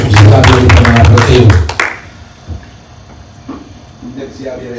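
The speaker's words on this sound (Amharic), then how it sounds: "ጌታን በልልታዎች ጭብጨባ አመስግኑትና ተቀመጡ" A church congregation claps and ululates loudly in praise for about two seconds, then the sound dies down to faint murmurs and scattered noises.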